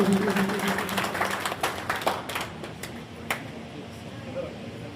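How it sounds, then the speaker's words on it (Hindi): An audience applauds top scorers of the NEET exam at a district collector's award ceremony. A burst of clapping thins out and fades over a few seconds as voices continue underneath. "जोरदार तालियां, बधाई आपको भी"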